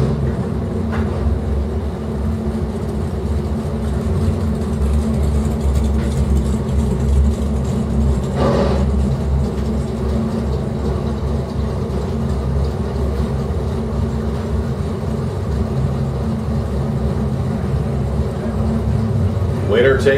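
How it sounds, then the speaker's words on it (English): Engines of a dragster and a 1974 Plymouth Duster rumble steadily at a drag race start line, a loud continuous drone under an announcer's voice over the PA. "In the Andy's Collision Repair Lane, out of Wingate, Indiana, is Ron Hayman in a 74 Duster."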